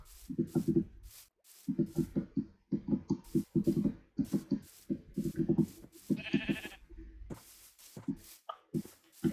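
Repeated rough, pulsing sheep bleats in Minecraft come in short bursts one after another, close and loud with brief gaps.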